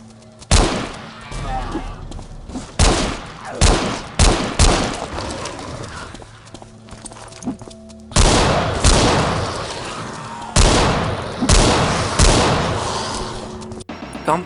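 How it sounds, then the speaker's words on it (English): Gunfire in the Road to Fiddler's Green mod: loud, punchy shots land in clusters with booming tails, scattered across the stretch with short quieter gaps between bursts. "Gunplay here actually feels nice. Every shot has good impact."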